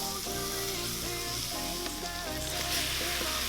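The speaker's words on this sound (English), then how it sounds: "We'll just quickly saute that until it's lightly browned." Beef stew meat sautéing in olive oil in a multi-cooker, making a steady close sizzle and hiss with faint stirring movements and no talk.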